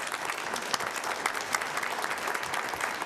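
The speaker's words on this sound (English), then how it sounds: "Let's give him a round of applause." An audience at a combined council meeting claps steadily, a dense, even patter of many hands filling the room for several seconds without a break.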